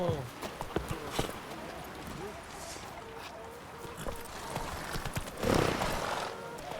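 A horse's hooves clip-clop at a trot along a road in The Witcher 3 video game, with a whinny and soft ambient noise. Voices talk over the steady hoofbeats.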